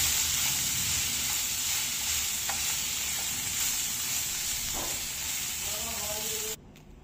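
Garlic and broccoli sauté in butter with a loud, steady sizzle and hiss, with stirring scrapes and light knocks throughout and a brief spoken phrase near the end.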